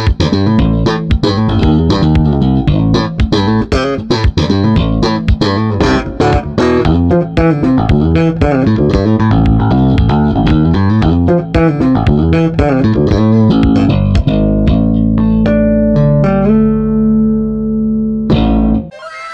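An electric bass strung with real 24 karat gold strings plays a fast, busy riff of plucked notes, loud and continuous for most of the passage, then ends on a few longer ringing notes.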